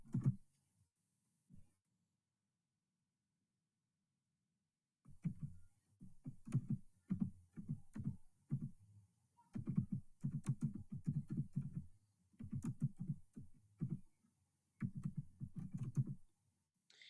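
Someone typing a short phrase on a computer keyboard while making a presentation title in Google Slides, heard as bursts of quick, close, soft key clicks in several runs with brief pauses.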